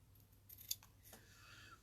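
Ribbon scissors snip through the loose tails of a tied craft ribbon bow, giving two or three crisp, close metallic cuts in a quiet room with no talking.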